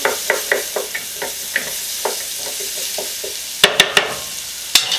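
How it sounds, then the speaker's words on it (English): Onions cooking in oil in a Copper Chef pan give a light sizzle broken by a series of soft, evenly spaced clicks, then a few sharper knocks near the end, close up with no voices. "onions. I'm just gonna let them absorb the oil"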